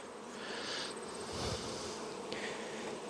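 A soft, steady buzz of honeybees being shaken from hive frames outdoors during a nuc transfer, a continuous faint drone with a few louder passes of bees close by, and no talking.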